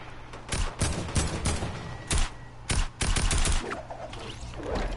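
Video game gunfire, a few scattered bursts of shots with short pauses between them, fairly loud, over steady low background game noise, no talking.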